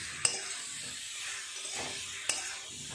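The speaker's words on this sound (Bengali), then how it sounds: "বেশ কিছুক্ষণ ধরে নেড়ে চেড়ে এঁচড়ের সাথে মশলাগুলো একটু কষিয়ে নিতে হবে।" Jackfruit and spices fry in a pan, a steady close sizzle with two sharp clinks of a utensil against the pan as the mixture is stirred.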